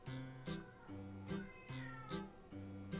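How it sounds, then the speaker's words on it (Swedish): Cats meow close by in a quick, repeating series of about six clear, tonal calls, each a short rising-and-falling cry, with no voices over them. "Kom katterna!"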